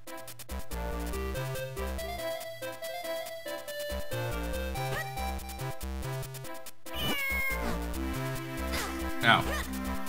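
A cat meows and caterwauls in The Legend of Zelda: The Minish Cap over chiptune-style game music, a few short rising cries near the end close over the steady melody.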